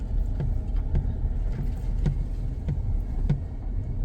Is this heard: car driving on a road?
yes